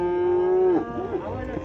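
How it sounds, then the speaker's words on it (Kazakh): A bull at a livestock market gives one long, loud, low moo that breaks off into rough grunting tails, with market noise faint behind it. "Бисарықтың бұқалары дейді"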